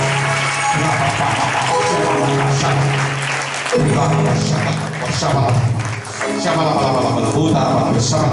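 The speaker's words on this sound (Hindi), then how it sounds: "जोरदार ताली बजाकर परमेश्वर की महिमा करें।" A church congregation claps loudly in praise, a thick, continuous burst of many hands, close and strong, while a voice carries over it through amplified sound.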